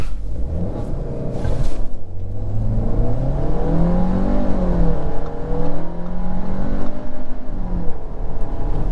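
A 2022 Audi A3 Premium Plus Quattro launching hard under launch control, its engine note climbing steadily through a gear with a brief dip at a shift, loud and close from inside the cabin, with no talk.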